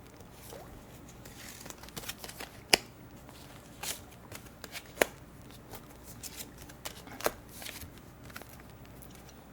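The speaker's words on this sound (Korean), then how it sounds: "추가로 3장의 카드를 한 번 더 뽑아보겠습니다" Tarot cards are shuffled and drawn during a reading, giving soft papery patter with a few sharp snaps and slaps spread across the quiet passage.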